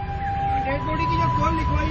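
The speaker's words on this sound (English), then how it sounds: "An ambulance is called out to treat someone who's collapsed on a busy street." Ambulance siren wailing on a busy street in Pakistan, a steady sustained tone rising slightly in pitch, heard at moderate distance over dense traffic rumble and crowd noise.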